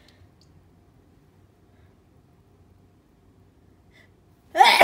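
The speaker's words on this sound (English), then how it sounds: "I have to sneeze." A single sudden sneeze bursts out right at the end, loud and close, after several seconds of near silence in a home art room.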